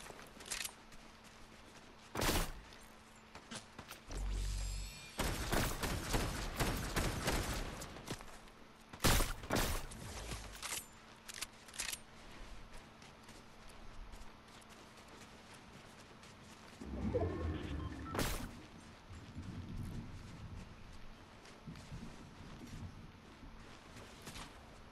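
Scattered Fortnite gunfire in a trios match, a few sharp isolated shots and short bursts separated by quieter stretches, with footsteps and movement in between.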